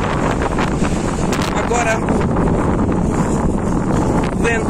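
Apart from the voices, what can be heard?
wind at the sea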